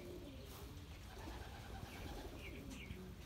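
Pigeons in a loft's settling cages give soft, low cooing, faint and close against a quiet background hum, with no talking.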